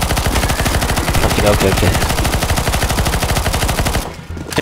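Rapid automatic gunfire from the CS:GO Zombies mode, loud and continuous bursts firing almost nonstop, with a brief spoken word mixed in near the end.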